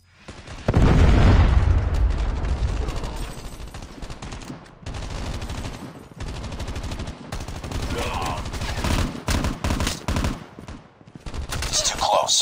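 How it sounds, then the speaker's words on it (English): Predator missile strike amid gunfire in Call of Duty multiplayer: a loud booming blast opens, followed by rapid bursts of automatic gunfire and further impacts, with brief game voice lines. "Missile on standby. Predator missile inbound."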